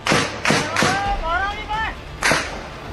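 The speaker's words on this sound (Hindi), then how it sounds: "पीओके में गोली और बम के धमाके फिर से गूंजने लगे।" Sharp gunshot-like cracks, three in quick succession then one more after a pause, with a short whistling sound between them.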